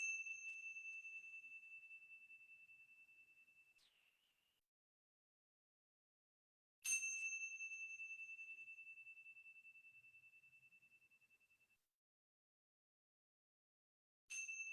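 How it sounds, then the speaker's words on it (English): A bell rings three separate times in a quiet yoga and mindfulness session, each strike clear and bright with a long decaying ring and a few seconds of silence between strikes. "listen for the bell to ring 3 times."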